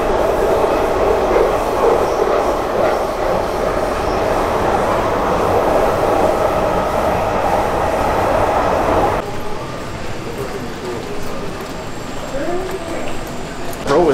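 Loud rumbling and rattling of a moving train fill the space, shifting to a quieter hum partway through, with occasional screeching of wheels.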